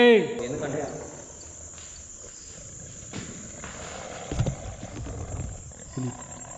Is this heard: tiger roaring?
yes